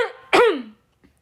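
A woman clears her throat and lets out one short, close cough, with a brief rasp before it and near silence after.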